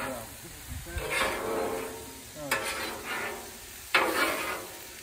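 A stir fry sizzles loudly in a hot pan, with bursts of hissing frying surging each time food is tossed or stirred, close up and steady throughout.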